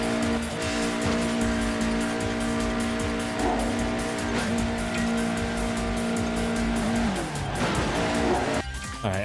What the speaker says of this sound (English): Why is this car so loud?